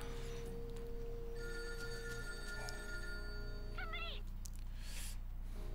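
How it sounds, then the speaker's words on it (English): A phone rings inside Lightning Returns: Final Fantasy XIII, steady electronic ringing tones over a constant game background hum, with a short warbling chime near the end and no talking. "It's like the phone rang when I got close."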